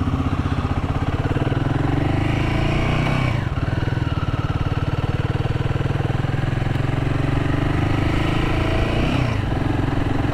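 Royal Enfield Himalayan 450 motorcycle cruising in third gear around 22–23 mph on urban roads, its steady engine drone close and continuous throughout, with a brief dip in pitch midway.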